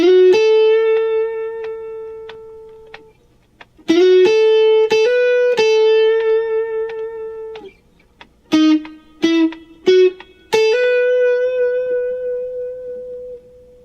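Electric guitar plays the B section riff of "Lowdown", single sustained notes with slides and a few quick clipped hits in short phrases, alone and close.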